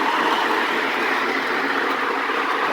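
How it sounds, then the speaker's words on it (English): A Lionel LionChief Prairie freight set toy steam train makes a continuous, even rushing chuff that runs loud and close without any clear pauses or other sounds. "let's hear the horrific chuffing"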